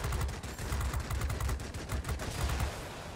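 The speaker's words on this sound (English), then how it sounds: "You just see those cannons chewing on that." Aircraft cannons in the World of Warplanes video game fire long rapid bursts, a dense rattling roar that continues without pause, loud and close.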